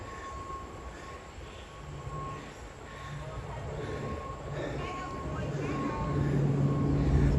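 Train running along elevated track in New York City, a steady low rumble and rattle of wheels that grows gradually louder, with faint squeal tones, heard from on board.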